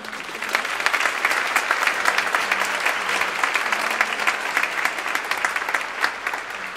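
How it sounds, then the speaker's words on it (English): Steady, dense audience applause fills a concert hall at the 18th annual Golden Wennberg Music Festival, a Davis Public Schools orchestra showcase, holding at an even level for the whole stretch without fading. "Please, a big applause for that"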